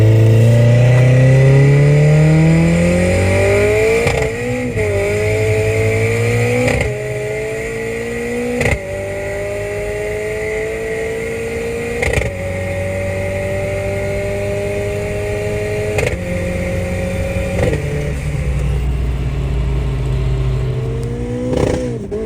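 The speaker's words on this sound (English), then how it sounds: "a BMW E46 with a tuned Saab engine in it. And just listen to these shifts because they are so crisp" A BMW E46 fitted with a tuned Saab engine revs hard through a run of quick, crisp gear changes, the engine note climbing and dropping sharply at each shift, loud and close.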